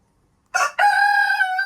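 A chicken at a backyard laying-hen coop in Ghana lets out a short call followed by a loud, drawn-out crow-like squawk, close and clear with no talking.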